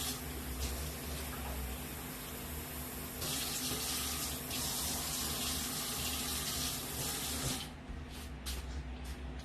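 A steady, close rush of water runs from a tap to fill a cup in a home kitchen while making ketchup, continuing for several seconds and easing slightly near the end.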